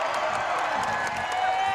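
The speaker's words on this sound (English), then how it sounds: "Crowd rising." Basketball arena crowd at a women's college game, San Diego State hosting UNLV, rising and cheering in a steady, dense roar, with a commentator's voice faintly underneath.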